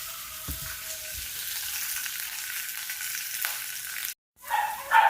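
Dried fish frying skin-side down in a pan gives a steady, fairly loud sizzle with broadband crackle throughout, a brief dropout near the end, then the sizzle resumes.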